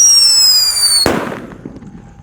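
A paper-wrapped whistling firecracker screams with a high, descending whistle, then bursts in one loud, sharp bang at close range, followed by fading crackle and echo.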